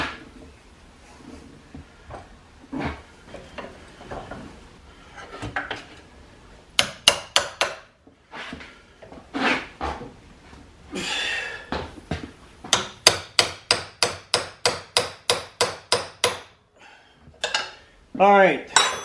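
Tightening a rebuilt hydraulic cylinder with a homemade wrench: metallic clanks and scrapes at first, then a fast run of sharp, evenly spaced ratcheting metal clicks, close and loud, with a final rattle.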